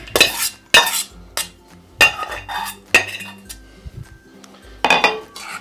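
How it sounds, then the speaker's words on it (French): A spoon clatters against a bowl while candied and dried fruit are stirred into a thick cake batter, giving sharp, close clinks and scrapes in uneven bursts with brief pauses between. "Et je vais bien mélanger."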